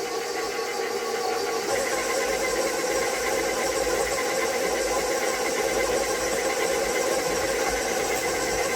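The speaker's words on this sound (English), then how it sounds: "This is a big mixer because this is a lot." A big electric stand mixer churns a large batch of root beer float cookie dough in a giant bowl, giving a steady, continuous motor whir with a grinding texture that stays even throughout.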